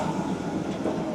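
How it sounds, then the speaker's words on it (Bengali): Himalayan toy train on the Gayabari jungle safari run toward Siliguri, rolling along steadily with a continuous rumbling, rattling clatter of wheels and carriages and no voices. "তো আমাদের যে ট্রেন চলছে, ইঞ্জিন কোনো সময় পুশ করছে, কোনো সময় পুল করছে"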